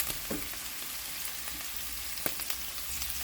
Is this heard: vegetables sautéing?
yes